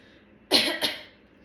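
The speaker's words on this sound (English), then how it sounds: "Her laugh morphs into a harsh cough." A harsh cough in two quick, rasping bursts, close and fairly loud against a quiet background.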